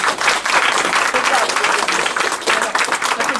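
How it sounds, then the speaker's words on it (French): An audience at a New Year's greetings event breaks into loud, sustained applause, many hands clapping densely and evenly with some crowd murmur throughout. "je crois qu'on peut d'ores et déjà applaudir"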